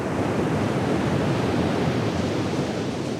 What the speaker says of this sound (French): la mer est, comme on dit ici, forte, avec de puissantes vagues